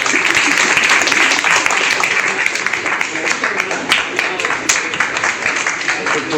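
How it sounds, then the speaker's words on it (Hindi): Dense, steady clapping from a large crowd at a BSP party rally fills the whole stretch, loud and unbroken, with scattered sharper claps standing out. "और जोरदार ताली"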